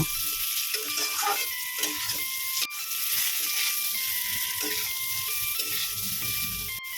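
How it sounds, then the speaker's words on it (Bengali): Boiled whole potatoes frying in oil in a wok for a potato, egg and eggplant curry, a steady close hiss and crackle of sizzling that runs throughout, with a faint tonal backing underneath. "সেদ্ধ করা আলুগুলোও ভেজে নিচ্ছি লাল করে ভেজে নেব"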